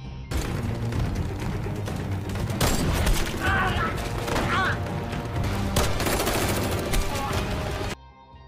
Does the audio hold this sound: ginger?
no